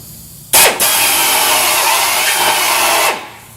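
A power drill with a small step bit enlarges a hole by one size during a TeraFlex rock slider install, a loud continuous grinding whine lasting about two and a half seconds, starting abruptly and stopping cleanly, with no voices.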